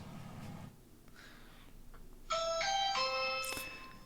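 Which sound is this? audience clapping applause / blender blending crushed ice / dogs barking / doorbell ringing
doorbell ringing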